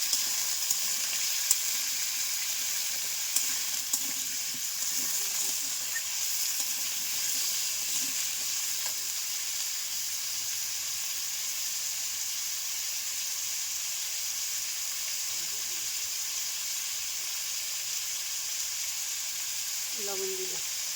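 Four green chillies fry in hot oil for a cashew paneer curry, giving a steady, close sizzle and hiss that holds at an even level throughout, with faint scraping and stirring touches.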